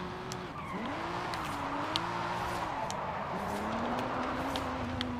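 A turbocharged car accelerates hard around a barrier-lined course, its engine pitch sweeping up and down through the gears with tire squeal and skidding, loud and continuous throughout.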